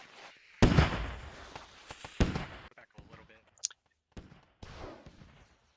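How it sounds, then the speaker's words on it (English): Heavy artillery rounds hitting a southern compound and a saloon in a squad combat game, two loud sharp blasts followed by scattered pops and crackles between gaps of near silence. "Huge arty round strikes,"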